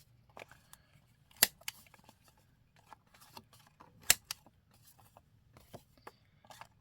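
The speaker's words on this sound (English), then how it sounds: "You could also just cut the little corners" Scissors snip around the little corners of paper for a craft ephemera project, producing sporadic crisp clicks and soft cutting scrapes, close and fairly quiet, with no talking.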